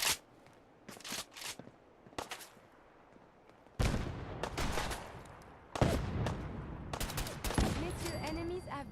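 Gunfire in modded Fallout 4, loud bursts of rapid shots in several volleys separated by quieter gaps, with sharp cracks and clattering tails.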